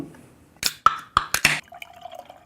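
Almanac Coffee Barbary Coast beer is opened and poured from a can into a glass: a few sharp clicks and splashy bursts, then a softer, trickling gurgle as the liquid settles, close up and without talk.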